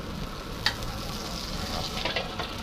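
Oil sizzles and crackles in a hot wok while spicy frog is stir-fried, a steady frying hiss with occasional sharp pops and the scrape of stirring, close and fairly loud.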